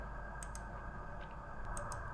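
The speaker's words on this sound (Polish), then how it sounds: "Wgrywamy program oraz klikamy przycisk Play." Faint, quick computer mouse clicks on a software play button, a couple of pairs, over a steady background hum.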